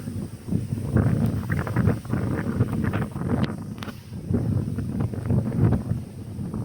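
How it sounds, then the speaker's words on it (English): Wind buffeting a microphone on a tripod beside a tiny Lincolnshire drain while pike fishing, a steady low rumbling roar with irregular gusty surges running throughout. "See the wind even below the tripod"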